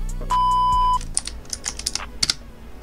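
Typing on a computer keyboard, a steady beep is heard first, then a quick run of close, crisp key taps with irregular rhythm and no talk.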